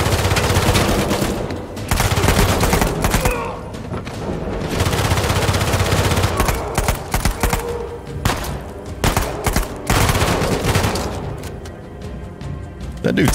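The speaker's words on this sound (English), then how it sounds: "That dude takes a lot of shots" Sustained gunfire in Uncharted 4 against a heavy armor enemy: dense, loud bursts of automatic shots and thumps that pause briefly and resume, with a voice talking over the action.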